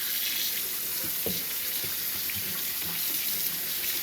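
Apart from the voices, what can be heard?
rinsing a brined turkey under running tap water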